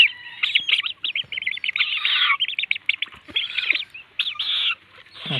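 Tame purple swamphens kept in a rooftop cage give loud, close, rapid chirping and squawking calls in uneven bursts with brief pauses between them.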